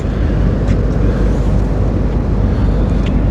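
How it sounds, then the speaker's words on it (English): Brittany Ferries ship engines on the Roscoff crossing roar as a steady, loud low rumble with broadband noise, heard from the upper deck with no talk. "Got the engines roaring up there."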